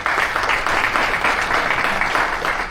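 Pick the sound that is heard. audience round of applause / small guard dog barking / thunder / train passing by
audience round of applause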